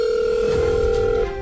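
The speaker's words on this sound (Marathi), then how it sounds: "भाऊजी फोन उचला." A steady ringback tone of an outgoing phone call drones for about a second before cutting off, in a Marathi TV serial scene, with no voices.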